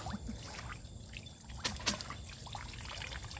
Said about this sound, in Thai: แล้วรอให้น้ำออกให้หมด